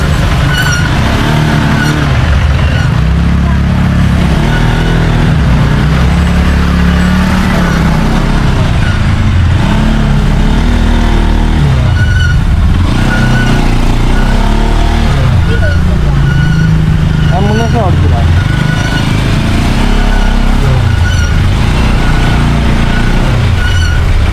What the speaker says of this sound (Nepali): टिपरभन्दा बढी मेरो बाइक कराइरहेछ